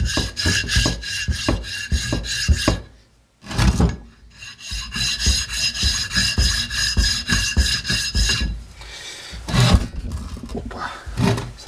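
Metal shears rasped back and forth across a sharpening stone in long, loud, close strokes with short pauses between passes, a harsh scraping rhythm with no talking.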